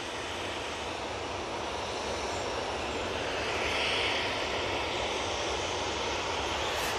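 Finnair airliner on final approach at Manchester Airport, a constant distant engine rumble with a slight swell near the middle, no speech.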